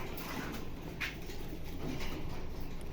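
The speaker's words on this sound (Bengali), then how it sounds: "সুস্থ সবল অ্যাক্টিভ কবুতর" Racer pigeons for sale in a loft give soft, low cooing that carries steadily through the clip against a constant murmuring background, with no voices.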